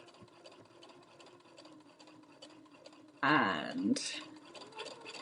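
A sewing machine runs a basting line across a quilt in one brief, loud burst of stitching of about a second, set against a quiet room and low speech before and after.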